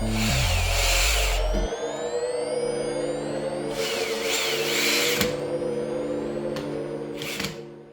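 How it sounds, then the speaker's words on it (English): A power drill boring holes through a felt acoustic panel, a steady whirring motor with rising and falling pitch sweeps, running continuously at close range with brief surges in speed. "We drilled holes in the felt with our own drill."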